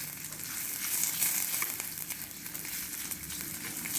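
Onions fry over low heat in a pan for a fresh green pea mini idli tadka, giving a soft, even sizzle with faint crackles, fairly quiet and close, with no one speaking.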